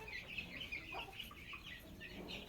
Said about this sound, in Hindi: जी माशाल्लाह बहुत ही प्यारे चिक्स हैं जी